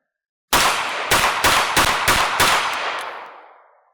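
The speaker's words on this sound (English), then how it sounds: "So I've just finished up doing this sort of revolver cylinder dump with the Ruger LCRx." Rapid string of six loud .22 WMR shots from a Ruger LCRx revolver emptied in quick succession, each crack close and sharp, with a ringing decay trailing after the last round.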